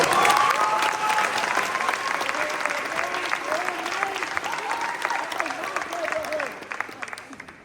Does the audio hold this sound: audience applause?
yes